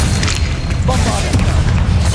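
A Bombarda spell explosion in Hogwarts Legacy booms loud and steady, with heavy rumbling and crackling debris throughout, heard up close without talk.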